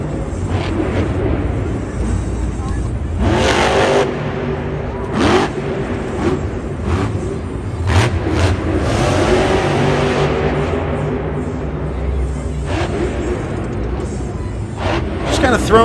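A damaged but still-running monster truck at a Monster Jam event in Indianapolis revs in loud bursts and roars, with crashing thumps, heavy crowd noise and an announcer talking over the din.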